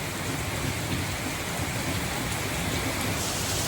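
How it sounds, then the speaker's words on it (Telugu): Heavy rain pours steadily in a dense, unbroken hiss that stays loud and even throughout, with no voices. "వర్షమేమో బాగా పడుతుంది"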